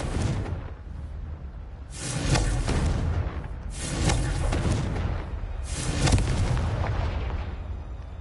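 Repeated Confringo blasting-curse explosions from a Harry Potter video game: about four loud, booming bursts land roughly every two seconds, each with a deep rumbling tail over a continuous low roar.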